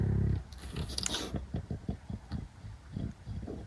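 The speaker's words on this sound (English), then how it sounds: "You can probably hear this dog down here sniffling." A dog sniffles close by, making a quick series of soft, rhythmic nasal puffs and snuffles after a short burst of louder noise.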